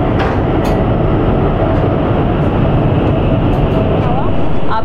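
Chinese high-speed bullet train bound for Hangzhou running through tunnels at around 350 km/h, heard from inside the carriage as a loud, steady roar and rumble with no break.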